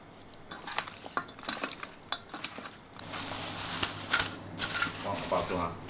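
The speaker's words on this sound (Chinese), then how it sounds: "今天要炸10個雞翅膀" Ten chicken wings deep frying in oil, a dense crackling sizzle with irregular pops that grows steadier and louder midway, close by, with utensils clinking and stirring alongside.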